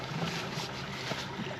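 A boat motor idles on open water while a small boat heads back toward a ramp, giving a low steady hum under wind noise and light water wash, with no one talking.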